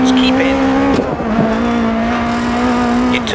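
A rally car in the DiRT 4 racing game holds a steady, buzzing engine note at high revs, with a brief dip and gravelly tire noise partway through, loud and close throughout.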